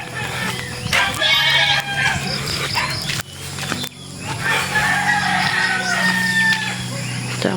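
Chickens cluck and squawk nearby in a busy, continuous chorus, with brief pauses and steady background bustle.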